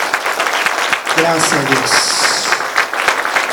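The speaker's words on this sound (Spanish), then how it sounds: "Yo quiero que le des otro aplauso al Señor por su grandeza, por su amor." A church congregation breaks into loud applause during a service, a dense roar of clapping, while a voice speaks over it.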